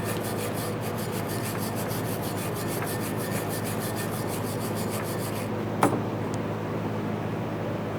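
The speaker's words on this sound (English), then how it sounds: "you can use a wire brush or continue on with your sanding disc if necessary" Close, continuous rasping as a wire brush or sanding disc scrubs the brake caliper bracket of a 2009-2014 Nissan Maxima, steady for several seconds before stopping, followed by a single sharp clink and a quieter tail.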